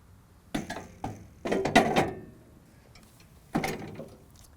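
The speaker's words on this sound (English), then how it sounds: "So I'm now going to put the turf rake into the mower." A turf rake cartridge slides along guide rails into an Allett C34E mower, making a few close plastic and metal clunks and knocks, with quiet gaps between them.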